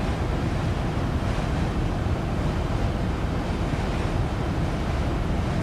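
Steady, loud wind roars through the cockpit of an aircraft climbing past 6,000 feet in the X-Plane 12 flight simulator, a continuous broadband rush with no breaks and no speech over it.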